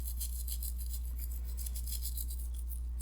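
Rapid, soft scrubbing of a toothbrush on a ring in warm soapy water, a steady series of light bristle strokes, close and quiet, with no voice.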